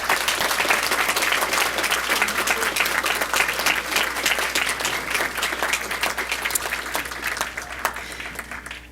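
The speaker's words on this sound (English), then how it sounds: "Let's give them a quick round of applause." An audience at a school board meeting applauds the school's wrestlers, a dense, even round of clapping that holds steady for about nine seconds and then begins to thin out near the end.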